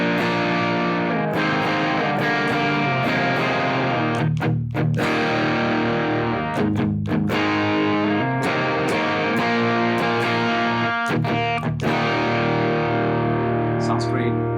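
An electric guitar runs through the distortion side of an Electronic Audio Experiments Citadel pedal into a UA OX Stomp, thick saturated chords ringing and sustaining with several sharp stops and restarts.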